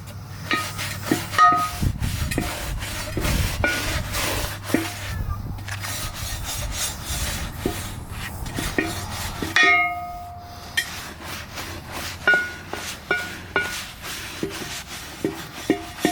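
Scrubbing dirty parts from a BMW E30 with a brush, close repeated rasping strokes in irregular rhythm over a low hum that stops partway, followed by sparser scrubs and knocks.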